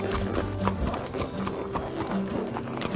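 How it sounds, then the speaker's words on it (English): Horse hooves clip-clopping on a trail, with a steady rhythmic walking beat heard at close range over outdoor background noise. "Now Rip is riding bridleless right now"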